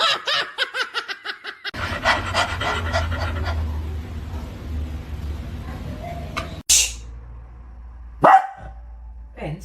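A Doberman puppy pants in quick, rhythmic breaths close by, the panting continuing with a low rumble underneath, then a couple of sharp brief bursts near the end.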